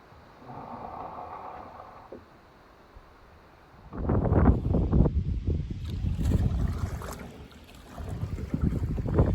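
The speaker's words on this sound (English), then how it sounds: "but it is windy, so it makes it fresh" Steady wind noise buffets the microphone, growing louder and gustier halfway through, with a faint rumble of water or a boat beneath.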